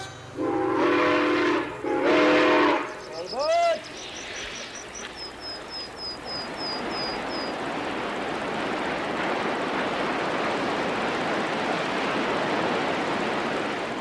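A train runs through the Animas River Canyon, opening with two long loud whistle blasts and a brief warbling tone, then a steady rumble of rolling wheels and cars that grows and fills the rest of the stretch.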